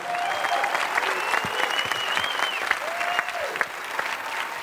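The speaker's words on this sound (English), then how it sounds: "One more round of applause." Film festival audience applauds after a Q&A for Storm Surfers 3D, sustained crowd clapping with a few sharper individual claps and whistles rising over the steady wash.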